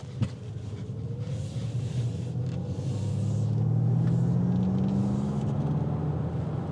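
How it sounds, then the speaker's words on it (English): A 2025 Ford Mustang Mach-E electric car's low, subtle synthetic engine hum swells gently and slightly rises in pitch, a smooth drone over faint road rumble. "let's see what this propulsion sounds like"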